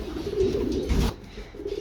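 Pigeons coo softly inside a breeding loft, a low throaty burbling that swells and eases in overlapping calls, close and steady, with no talking.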